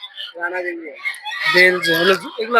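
Belgian ducks and other poultry at a busy outdoor market call in quick, overlapping bursts, loud and close, with harsh honking squawks rising and falling across the moment.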